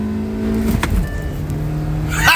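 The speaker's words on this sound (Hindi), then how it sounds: "गियर शिफ्ट ऑन पॉइंट, और ये पीछे जाती हुई नेक्सॉन।" A 2023 Tata Nexon accelerates hard in a drag race against a Hyundai Exter, its engine loud and close as it climbs in pitch, breaks off briefly at a gear change and then revs up again.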